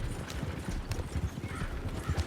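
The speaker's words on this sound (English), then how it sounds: "Horses won't go this fast for long." Horse hooves gallop in the video game Red Dead Redemption 2, a loud, close, steady clip-clop rhythm that runs unbroken throughout.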